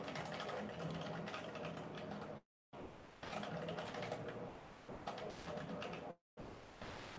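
Typing on a custom-built mechanical keyboard during an online typing test, a dense steady clatter of keystrokes broken by two brief silent gaps, close and alone.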